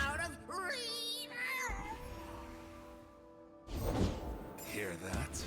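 A cat meows repeatedly inside the card game Legends of Runeterra, with several rising, wavering cries near the start and more toward the end, set over steady game music and effects.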